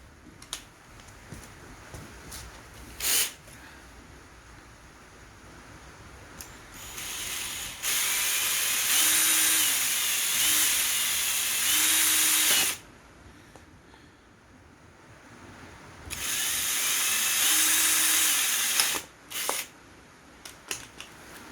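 A power drill whirs loudly in two sustained bursts, several seconds each, drilling through a motorcycle number plate from the back, with clicks and handling noises between them.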